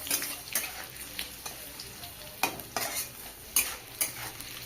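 Chopped onions fry in hot oil in a wok with a soft, constant sizzle. A spatula stirs them with periodic scraping clatters, fairly quiet and heard close up without speech.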